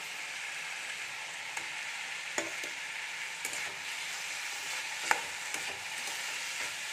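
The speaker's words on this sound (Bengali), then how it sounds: "আমি পুরো এই মশলাটাকে দিয়ে সবজিটা খুব ভালো করে কষিয়ে একদম দলা দলা টাইপের করে নেব।" Vegetables frying in a pan with salt, sugar, garam masala, turmeric and chili powder, giving a continuous soft sizzle with occasional scrape and tap of stirring, fairly quiet and close.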